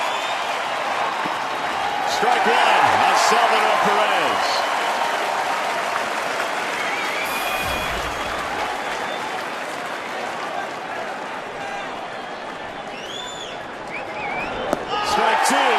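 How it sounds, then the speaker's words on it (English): Stadium crowd at a Kansas City at Detroit baseball game applauds and cheers steadily in a broad, sustained roar, with a play-by-play announcer talking over it throughout. "And the crowd is eating this up."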